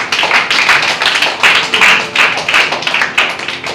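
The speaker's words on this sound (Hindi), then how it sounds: "अरे ताली मारो।" A church congregation claps together at a Sunday service, producing steady, rhythmic, fairly loud group clapping with no voices over it.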